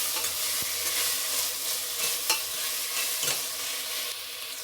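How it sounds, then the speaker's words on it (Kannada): Tomato and spices fry in oil in a pan for a Karnataka hannu hurilikayi curry, a continuous close sizzle broken by a few sharp scrapes and clinks of a spoon stirring. "ಫ್ರೈ ಇದು ಚೆನ್ನಾಗಿ ಎಣ್ಣೆನೆಲ್ಲ ಫ್ರೈ ಆಗಬೇಕಿದು"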